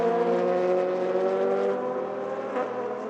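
United Autosports LMGT3 race car sweeping past at Le Castellet, a loud engine howl that sustains and then drops slightly in pitch as it draws away, with no voices over it.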